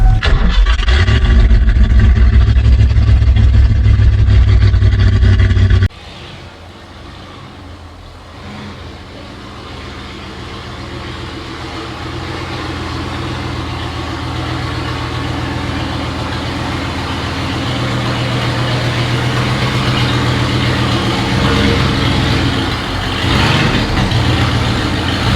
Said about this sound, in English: I'm going to go get his truck in here and start working on it.